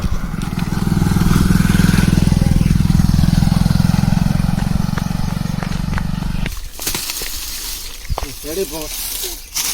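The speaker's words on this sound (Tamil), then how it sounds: "டேய் வண்டி சத்தம் கேட்குதுடா" A motorcycle on a village road runs loud and close with a strong engine drone that fades after a few seconds, while voices talk in the background.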